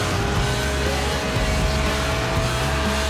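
A Lotus Elise, the 1990s mid-engine, two-seat, rear-wheel-drive roadster, drives in Forza Horizon 4, its engine a loud, steady drone with a faint tire hiss that holds without a break for about three seconds.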